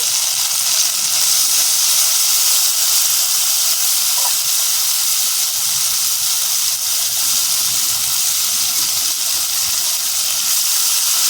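Spice paste of ground ginger and masala hitting hot oil for a potato and cauliflower dalna, giving a steady, loud, continuous sizzle and hiss with no talking.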